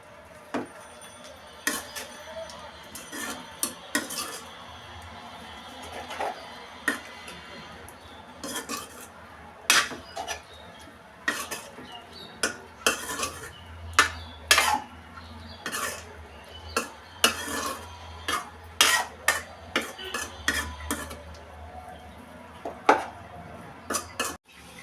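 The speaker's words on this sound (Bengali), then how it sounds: "দিয়ে দিলাম লবণ, হলুদ, মরিচ, দিয়ে দিচ্ছি একটু জল, কষিয়ে নিব ভালোভাবে।" Eggplant with dried fish, salt, turmeric, chili and a splash of water being stirred in a pan, a spoon knocking and scraping against the metal in irregular clinks over a faint low sizzle, close up with no speech.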